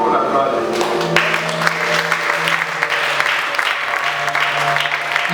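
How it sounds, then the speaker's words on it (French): A church congregation applauds for the glory of God, giving steady, dense clapping from a large crowd throughout, with a voice carrying over the applause. "Acclamons pour la gloire de Dieu."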